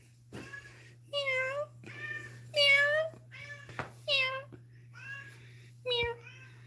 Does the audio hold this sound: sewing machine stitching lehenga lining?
no